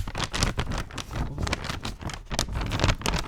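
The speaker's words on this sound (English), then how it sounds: "I'm going to rustle some paper." Close, crinkly rustling of paper being handled, a continuous crackle with uneven bursts throughout.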